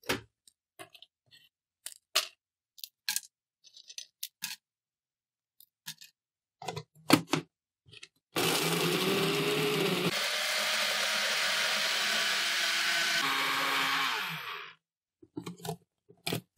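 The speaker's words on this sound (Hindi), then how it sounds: "अब हम इनको तोड़कर मिक्सी जार में डालकर ग्राइंड करेंगे।" A mixer grinder grinding biscuits into fine powder whirs loudly and steadily for several seconds, shifting pitch midway, after a series of sharp clicks and clatters from handling the jar.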